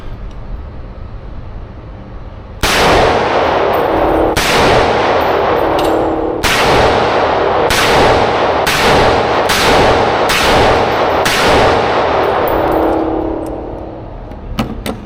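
Gunshots ring off steel targets during a last magazine of shooting, about ten loud, close cracks, each followed by a ringing metallic clang, spaced irregularly over several seconds.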